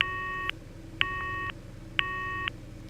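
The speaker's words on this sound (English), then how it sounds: "I tried dialing 110 Japan's emergency services, but the call wouldn't go through" A video-game cell phone dials Japan's 110 emergency number and the call fails, giving three evenly spaced electronic beep tones about half a second each, clear against a quiet low hum.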